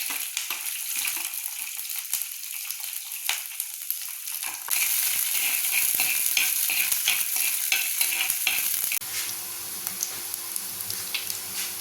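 Onion and green chilli sautéing in a pan for a nethili (anchovy) fish kuzhambu: a steady, bright sizzle with frequent stirring and scraping, growing louder partway through, close and with no voices.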